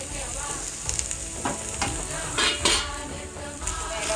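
Grated coconut and jaggery sizzle in ghee in a pot for modak filling, with repeated scraping stirs and light clinks of a spoon against the metal, close and fairly loud, without talk.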